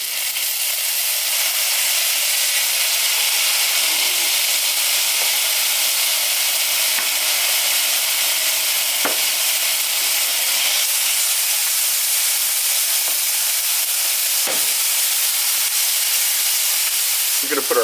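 Onions and garlic sizzle in a hot pan with a steady, loud broadband hiss throughout, with a few faint clicks of stirring underneath.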